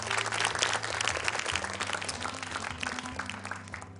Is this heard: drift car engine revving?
no